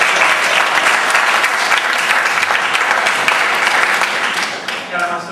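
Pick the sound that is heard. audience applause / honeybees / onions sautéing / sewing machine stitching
audience applause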